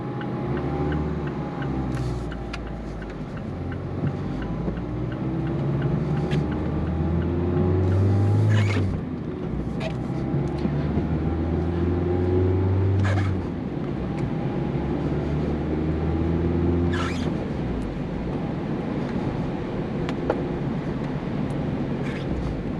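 A 2023 Mazda Miata with a manual gearbox climbs a hill, its engine giving a steady low drone with shifting pitch and faint ticking under continuous cabin noise, no voices.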